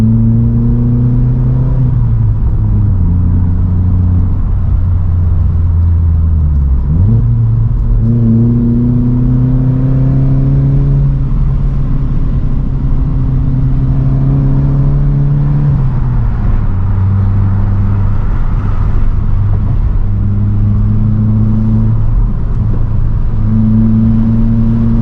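A Vauxhall Corsa engine droning loudly while driving through bends with the windows down, revs rising and falling steadily with gear changes amid constant road rumble.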